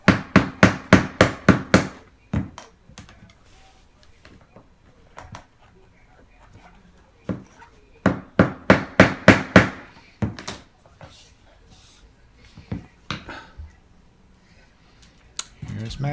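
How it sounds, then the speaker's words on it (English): Rubber tapping block knocked against a luxury vinyl tile seam to close it tight, heard as two quick bursts of sharp, evenly spaced taps near the start and middle, with scattered softer knocks and faint talk between. "tapping block just to make sure that the seam is tight"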